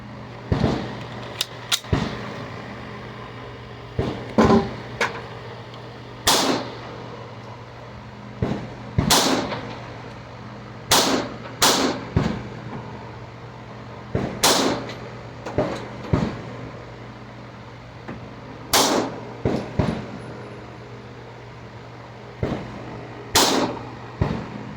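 PSA Dagger full-size pistol firing 135 grain Critical Duty rounds from a rest at a 10-yard range: loud, sharp single shots, some in quick pairs, spaced irregularly with pauses between strings.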